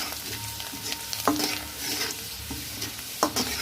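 Chopped garlic frying in about a tablespoon of oil in a wok, cooked for restaurant-style chicken Manchurian: a low steady sizzle broken by a few sharp spatula clinks and scrapes, close up, with no talking.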